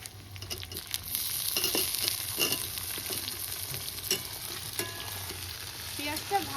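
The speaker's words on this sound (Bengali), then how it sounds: "এবার আলুগুলো দিয়ে দেবো এর ভিতরে।" Potatoes fry with onions in a hot wok, a continuous close sizzle broken by repeated scraping and clanking stirring strokes.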